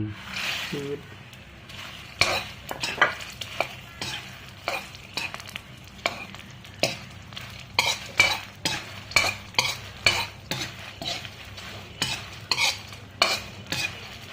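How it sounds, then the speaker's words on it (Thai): Cicadas frying in hot oil, with a steady sizzle under repeated sharp stirring and scraping strokes in a quick, uneven rhythm, close up. "ตอนนี้เราก็จะมาทอดจักรจั่นกันแล้วนะครับ"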